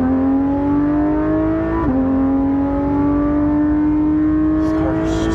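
Porsche 991.2 GT3 RS driven on a road, its engine holding a loud, steady high-pitched note with a brief dip in pitch partway through before climbing again, with no talking over it.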